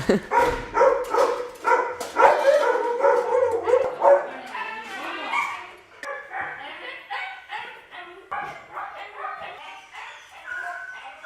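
Dogs at an animal shelter bark and yip in quick, uneven bursts, loud and close, with some whimpering mixed in and a voice talking among the barks.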